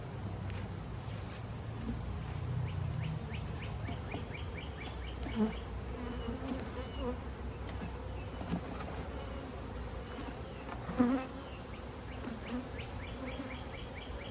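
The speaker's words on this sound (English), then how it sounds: "We're going to take our bees inside the box." Dense, steady buzzing of many honey bees close by as a nuc is shaken into a hive box, a continuous droning hum with a few brief knocks and bumps, no talking.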